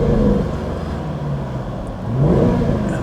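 A Jaguar XKR's supercharged engine blipped at idle, the revs swelling then falling back, then rising again in a second surge, loud and close with a deep growling tone.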